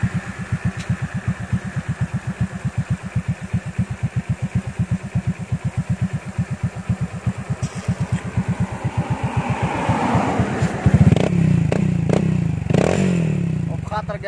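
A modified R50 motorcycle with a custom exhaust, running on its own, thumps out a steady, rapid idle pulse for about ten seconds. It then revs louder and rougher toward the end.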